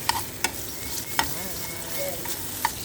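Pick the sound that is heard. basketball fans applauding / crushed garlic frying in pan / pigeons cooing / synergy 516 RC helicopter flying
crushed garlic frying in pan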